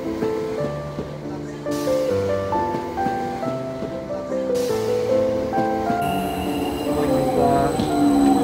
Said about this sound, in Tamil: நம்ம வெயிட் பண்ணிட்டு இருந்த சவுத் அண்ட் விக்டோரியா ட்ரெயின் வந்துருச்சு.